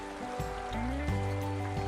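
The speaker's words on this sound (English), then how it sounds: "This is a view of the creek from the road." A small rural creek flows steadily in a continuous watery rush near a country road, accompanied by persistent tonal hums and some low rumbling movement.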